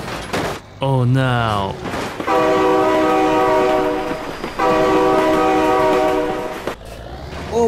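Loud, close horn blasts from a passing train in BeamNG Drive, sounding in two long sustained chords over rumbling wheels, with a shouting voice heard at the start.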